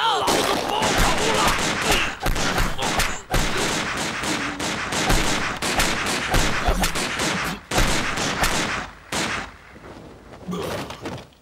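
Dense gunfire from a Chinese war film about an ambush on Japanese troops, with rapid volleys of rifle and machine-gun shots, thuds and short pauses, loud and sustained throughout, with a shout or two briefly mixed in.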